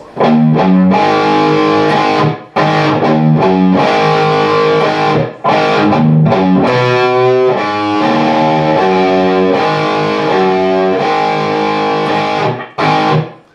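An overdriven electric guitar plays a riff in loud, rhythmic phrases, with brief gaps between the bursts of distorted chords and a run of single notes.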